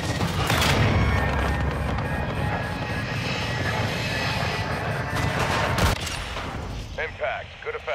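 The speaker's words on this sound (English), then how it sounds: "cruise missile inbound" In a Call of Duty: Modern Warfare II battle at a hotel, a cruise missile strike arrives as a loud roaring rush and blast, with heavy engine drone and rattling gunfire. A voice speaks briefly over the din.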